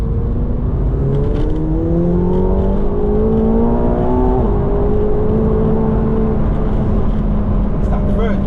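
A McLaren 720S supercar, rear-wheel drive, accelerating hard through the gears from inside the cabin, engine note climbing in rising sweeps with brief drops at each upshift, loud and continuous, with excited voices talking over it.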